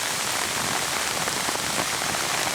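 Steady rain falling outdoors in the woods, a dense, even hiss of drops on surfaces that continues unbroken and fairly loud, with no voices.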